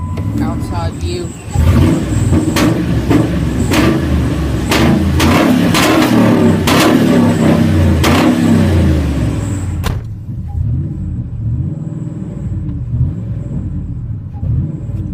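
Supercharged 2000 Ford F-150 5.4-liter V8 with headers, Zeal exhaust and Flowmasters, recorded outside, roars loudly through repeated revs, then settles to a quieter, steady idle.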